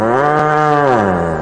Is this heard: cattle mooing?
yes